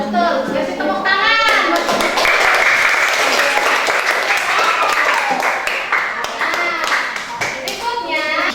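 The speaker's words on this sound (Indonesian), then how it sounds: "Kasih tepuk tangan." Classroom applause from a group of pupils, dense steady clapping filling the room for several seconds, with children's voices and chatter mixed in at the start and end.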